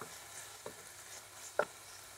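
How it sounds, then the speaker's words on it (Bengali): Marinated chicken frying in a pan with two tablespoons of oil for chicken noodles: a faint, steady sizzle with a couple of soft clicks from stirring. "এখন আমি একই প্যানে 2 টেবিল চামচ তেল দিয়ে দিয়েছি আর ম্যারিনেট করে রাখা চিকেনগুলো দিয়ে দিব"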